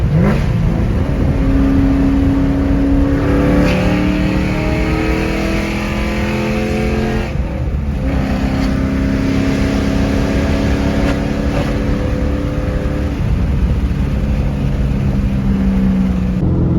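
A straight-piped 2007 Mustang GT downshifts into third and pulls hard, its loud exhaust rising in pitch through repeated acceleration runs with brief lifts between them, heard from inside the car without talk.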